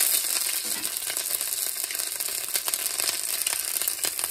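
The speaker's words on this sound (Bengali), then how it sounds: "প্রথমে 5 ফোড়নটা যে ভাজা করে নিচ্ছি, এবার দিয়ে দেবো থেতো করে রাখা আদা।" Panch phoron whole spices and crushed ginger sizzle in hot oil in a wok, a steady crackling hiss with faint stirring clicks, close and continuous with no talking.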